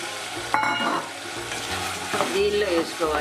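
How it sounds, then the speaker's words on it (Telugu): A paste of mint, coriander, ginger, garlic and green chillies fries in a pot for pudina biryani, sizzling steadily close up while a spoon stirs and scrapes in short bursts. "వేసుకుని ఒక 5-6 నిమిషాల పాటు ఈ స్మెల్ పోయే వరకు వేయించుకోవాలి"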